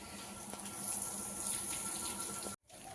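Steady rushing of running water filling a trough for buffaloes, continuous and fairly close before cutting off abruptly near the end.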